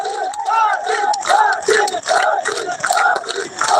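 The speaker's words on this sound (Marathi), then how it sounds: "टाळ्यांचा कडकडाट" A large crowd at a political rally roars and cheers without pause, voices blending into a loud, dense swell that rises and falls in waves.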